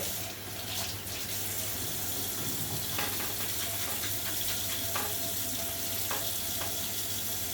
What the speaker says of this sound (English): I'm just going to wash my hands again because I feel I need to.